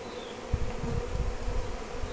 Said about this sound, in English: The scout bees will, you know, be flying around looking for somewhere to bring the hive.